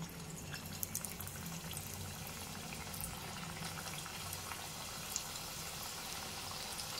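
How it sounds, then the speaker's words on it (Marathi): Roll samosas frying in hot oil over a low flame, a soft, steady bubbling sizzle with tiny crackles and pops scattered throughout, faint and even. "आता समोसे तळून घेऊ"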